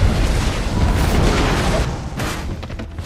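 A large explosion set off for a film rolls out as a loud, deep boom with a long rumbling tail. It slowly fades over about three seconds.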